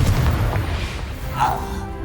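A Confringo blasting spell explodes in the video game Hogwarts Legacy, giving a loud, deep boom with a rumbling low end that fades into a dull roar over about two seconds.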